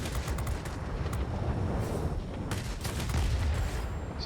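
Aircraft guns fire in the World of Warplanes flight game from a Chinese Shenyang JL-1A-37 fighter, a loud, dense stream of rapid gunfire bursts rattling on without pause and with no voices.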